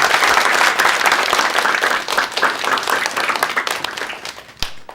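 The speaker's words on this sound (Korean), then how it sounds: "박수 부탁드리겠습니다" Studio audience applauding at the close of a televised health lecture on acupuncture and moxibustion, a dense steady wash of many hands clapping throughout, loud and close, thinning slightly near the end.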